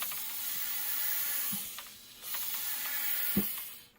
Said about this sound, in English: Nice, satisfying pump.